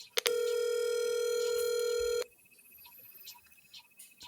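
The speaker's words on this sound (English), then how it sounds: "We can hear the phone ringing a lot better." A telephone rings on a call with a long, steady electronic tone for about two seconds, loud and close, then stops abruptly and leaves faint background noise.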